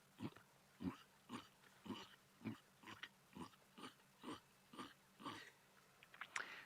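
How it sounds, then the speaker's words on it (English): Warthog grunting on an evening safari: a steady series of about a dozen short, rough grunts at a regular rhythm, moderately close and fairly quiet, with no talk over them. "They can make that sort of grunting"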